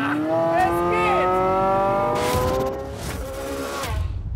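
A Porsche 918 hybrid, pairing a 4.6-litre V8 with two electric motors, accelerates hard with a rising, steady engine note heard close and loud, followed by a fainter passing tone and a short narration over it.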